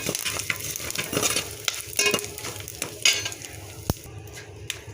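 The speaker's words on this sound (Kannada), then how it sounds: "ಸ್ವಲ್ಪ ಎಣ್ಣೆ ಹಾಕಿದ್ದೀನಿ ಅರ್ಧ ಸ್ಪೂನ್ ಆದಷ್ಟು ಸಾಸಿವೆ ಕರಿಬೇವಿನ ಸೊಪ್ಪು ಸಾಸಿವೆ ಚಟಪಟ ಅಂತ ಸಿಡಿದ ಮೇಲೆ" Mustard seeds and curry leaves splutter in a little hot oil as a spoon stirs the pan, giving steady close sizzling with scattered crackles and sharp metal taps, no voices.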